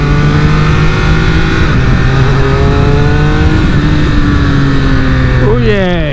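A Ducati Streetfighter V4 motorcycle engine revs loudly and close while being ridden, its rising tone climbing steadily before a quick drop and a fresh climb at a gear change.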